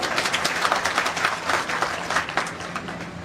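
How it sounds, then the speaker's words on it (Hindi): A crowd at an education award ceremony applauds steadily throughout, with dense, overlapping claps that rise and fall slightly without stopping. "विधायक महोदय के लिए एक बार जोरदार ताली बजाओ आप लोग"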